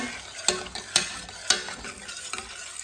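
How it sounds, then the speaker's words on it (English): Spoon stirring a pot of tomato sauce mixed with honey for Detroit-style pizza, a few distinct scraping clacks against the pot with a faint sizzle between them, close and alone. "Stir this all together."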